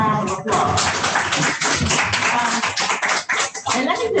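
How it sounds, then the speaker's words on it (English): Audience applause following a call to clap for a speaker at an inspirational event, dense continuous clapping filling the room for a few seconds with a brief dip partway through. "Give her a round of applause."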